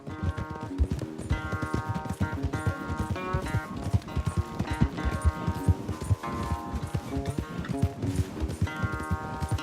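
A horse gallops during a race in Red Dead Redemption 2, its rapid, steady hoofbeats thudding close and continuous beneath game music, with no talking.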